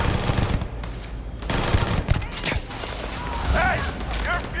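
Rapid gunfire from the sci-fi role-playing game Starfield, bursts of shots and impacts mixed with game effects and a voice speaking partway through.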